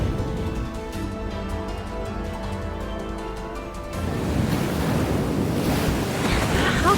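Ocean waves in the video game Love and Deepspace wash steadily, a broad hissing surge that grows louder and rougher midway, after a calmer underwater-like musical stretch.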